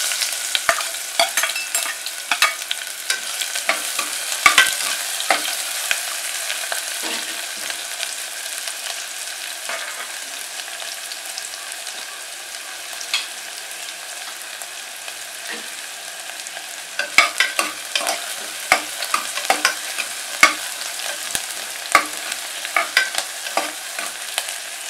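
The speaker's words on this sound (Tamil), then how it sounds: "இப்போ வெங்காயம் போட போகிறோம்." Onions frying and being stirred in a pan while cooking a potato and pea kurma, a steady close sizzle broken by irregular scraping stir strokes, with no talk.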